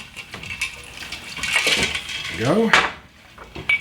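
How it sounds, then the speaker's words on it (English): A cocktail, a bloody suffering bastard, pours into a glass over a large ice cube, a close liquid splash with clinks of ice, while someone talks over it. "let's pour it over a large cube"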